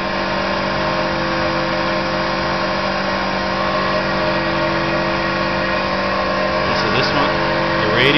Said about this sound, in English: Okay, so the fan that's spinning away.